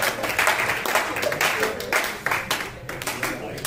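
A church congregation claps and cheers during a worship lesson, with dense, continuous applause rising and falling in waves for several seconds.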